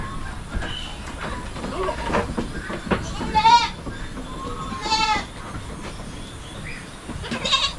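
Goats on a Filipino farm give two clear, wavering bleats a couple of seconds apart, with another starting at the end, over steady low background noise.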